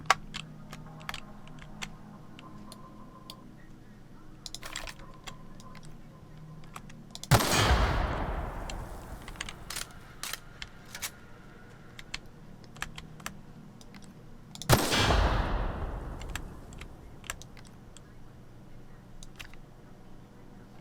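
Gunfire in The Outer Worlds comes as two heavy, booming bursts that fade slowly, set among fast clicking keyboard and mouse taps and faint game background sound.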